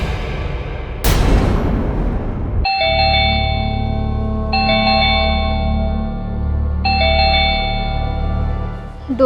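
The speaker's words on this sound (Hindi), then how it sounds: "डोरबेलटा एते थर बाजिलानी" A doorbell chimes three times in a slow, evenly spaced ding-dong pattern, loud and close, after a brief burst of noise.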